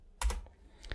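A few quick computer-keyboard keystrokes while typing code, close and fairly soft, with two clustered clicks followed by another pair, with no talking.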